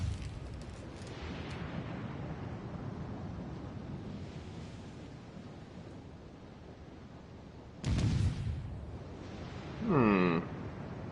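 Torpedo hits in the World of Warships Legends naval battle game: a low rolling rumble under ocean-like wash, with two louder explosive bursts late on, one fading into a wavering tone.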